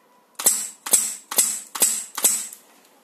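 An HPA airsoft gun with a fully mechanical automatic system firing in single-shot mode, five crisp pneumatic snaps evenly spaced about half a second apart, loud and close with nothing else heard.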